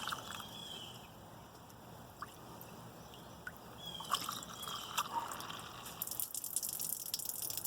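Dandelion mead pours through a silicone funnel into bottles, a soft trickle and gurgle that builds toward the end as a bottle fills and overflows, quiet and close.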